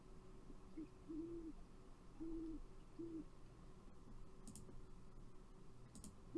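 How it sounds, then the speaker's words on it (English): Synthesized owl hoots for a Minecraft sound effect: soft, low double hoots repeating in a short rhythmic pattern over a quiet background, with faint scattered clicks. "and then another double hoot"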